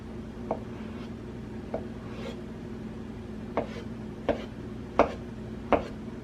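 A knife cuts neat slices of avocado on a board: soft chopping taps arrive at irregular intervals, about seven in all and clustering toward the end, close but fairly quiet over a steady kitchen background hum.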